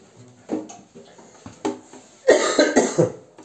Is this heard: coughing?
yes